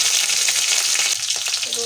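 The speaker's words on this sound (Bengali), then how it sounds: "এবার দিয়ে দিলাম কাঁচা লঙ্কা" Green chillies hit hot oil already holding nigella seeds and dried red chillies, giving a loud, dense, continuous sizzle heard up close.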